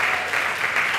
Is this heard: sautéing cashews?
no